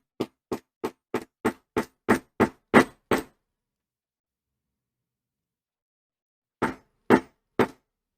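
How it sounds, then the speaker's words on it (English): A stitching chisel is hammered through veg-tan leather in a quick run of about ten sharp, evenly spaced knocks, then a pause of silence and three more strikes, close and crisp in a quiet room. "I'm hammering stitch holes using a stitching chisel"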